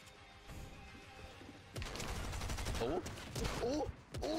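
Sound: gunfire in a video game

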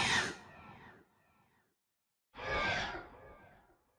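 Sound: Michael Myers stalking sound effect, developer build, video game

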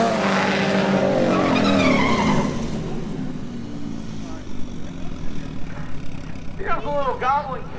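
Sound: Goblin kit car at drag race

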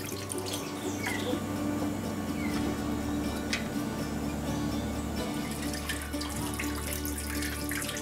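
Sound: cold water poured into a container to cool pasteurized goat milk

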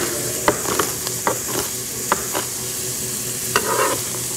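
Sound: trimmed French green beans added to cooking pot

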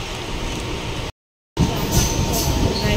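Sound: train ride, inside a moving train

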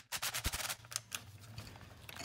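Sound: battery impact gun loosening part on BMW water pump

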